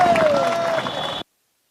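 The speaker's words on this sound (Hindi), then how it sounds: "जोरदार ताली बजा करके इनका स्वागत करिए।" A gathered audience at a political rally claps loudly to welcome a guest, a dense burst of applause that runs just over a second and then cuts off abruptly.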